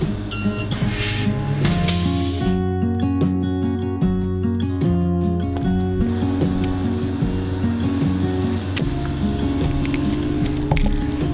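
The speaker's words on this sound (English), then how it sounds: "This is not the engine. This is just the air conditioning." The air-conditioning system at the rear of an all-electric double-decker bus gives a steady, continuous mechanical hum with shifting tonal whines under a broad background rumble.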